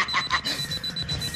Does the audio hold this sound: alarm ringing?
yes